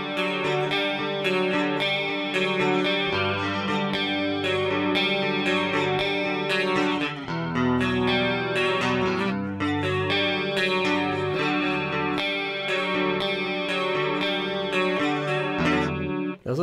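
Electric guitar played through a Rockman Soloist headphone amp, with a heavily chorused, echoing clean tone. Sustained chiming chords ring continuously and loudly, with no voices.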